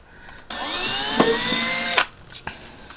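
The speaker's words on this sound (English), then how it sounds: "I'll just drill through the rubber just to widen it up a little bit." A power drill whines at high speed for about a second and a half, drilling through rubber on a Crazy Cart, loud and close, then cuts off, leaving faint clicks and handling noise.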